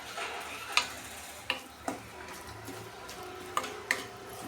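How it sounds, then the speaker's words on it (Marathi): Spices frying in a pan for garlic methi, a soft steady sizzle punctuated by several sharp ticks and clinks of a spoon against the pan, fairly quiet and close. "छान असं फ्राय होऊ देऊ"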